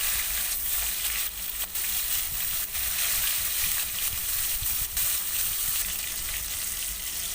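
Salted katla fish fries in hot oil in a wok, a steady crackling sizzle with occasional sharper pops and soft stirring sounds.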